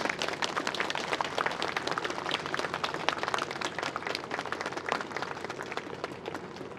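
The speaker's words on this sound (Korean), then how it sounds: "다시 한번 따뜻한 박수로 보내드리도록 하겠습니다." Warm applause from the audience at a memorial cultural rally marking the second anniversary of Moon Jung-won's death, a continuous, dense patter of many hands clapping at moderate distance.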